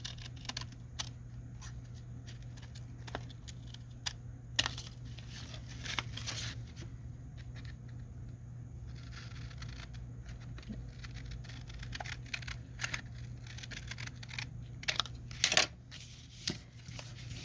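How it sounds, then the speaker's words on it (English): Scissors cutting paper along a line for a double pocket card foldout made from 12x12 paper, a run of quiet close snips and rustles over a steady low hum, with no talking. "And then I just grab this and cut along that line."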